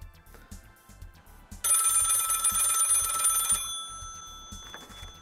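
A telephone bell rings in one loud burst lasting about two seconds, then fades, set against a faint rhythmic background thump.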